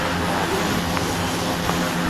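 A plane engine in the Roblox flight game PTFS, on approach to Lukla airport, gives a steady, loud, unbroken drone.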